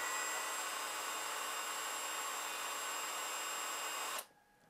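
A Villager VLP 5320 cordless impact driver runs with no load, a steady close high-pitched motor whine that stops abruptly near the end and leaves quiet.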